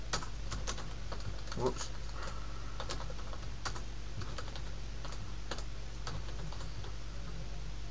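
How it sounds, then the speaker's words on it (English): Rapid keystrokes on a computer keyboard, irregular clicks in quick bursts over a steady low hum, close and fairly quiet, with a brief spoken word partway through. "I'm going to type my name."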